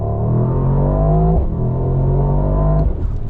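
A 2023 Mercedes SL63 AMG engine in manual race mode pulling hard, loud rising revs through two gear changes with brief dips at each shift, heard up close from inside the car.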